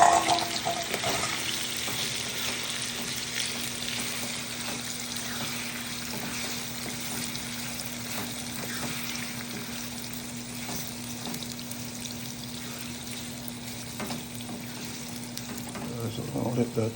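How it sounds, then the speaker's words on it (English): Beef liver sizzles in hot grease in a pan with pumpkin, giving a steady, close frying hiss with faint stirring clicks under it, fairly loud throughout. "I'll add this liver to the top. All this grease is hot, so here we go."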